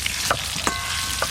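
Spices fry in hot oil for Kashmiri aloo dum with a steady close sizzle, while a utensil stirs and scrapes the pan in short, spaced strokes. No one speaks.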